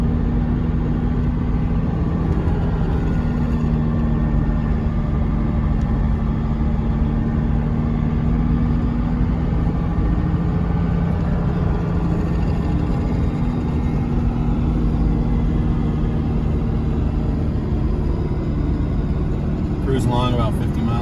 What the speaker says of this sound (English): Engine noise from the Cummins is noticeable,